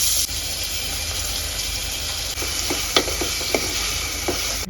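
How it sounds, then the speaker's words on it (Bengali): Onions and chilies frying in a pan for fried rice: a continuous bright sizzle with a faint steady hum beneath, then a few quick scraping stirs near the end. "পেঁয়াজ আর মরিচ ভেজে নেব।"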